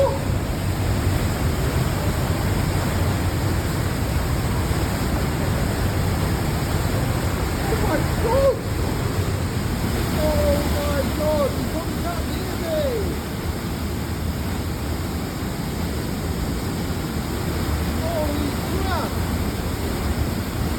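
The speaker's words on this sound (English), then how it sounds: "It's so loud because you're in these caverns and the sound of the water just echoes and makes it so much louder, amplifies." Fast water roaring through underground caverns in Switzerland, a loud, dense, unbroken rumble amplified by echo, with a voice faintly audible under the noise.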